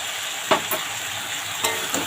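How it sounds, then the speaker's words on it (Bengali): Fried spinach and cauliflower with a little sugar are stirred in a sizzling pan. A steady fry hiss runs throughout, and a few scraping stirs of the spatula sound close and distinct, with no voices. "একটুখানি এবার ভালো করে মিশিয়ে নেব।"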